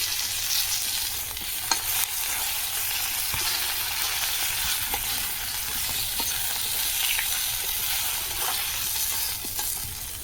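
Spices including turmeric and chilli powder sizzle in an iron wok over a rural Indian village fire, a dense, even crackle with occasional stirring clicks, close and steady with no voices.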